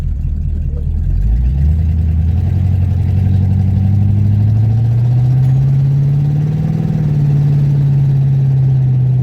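A loud car engine runs steadily with a deep rumbling drone, its pitch rising slightly as it revs, continuous and close.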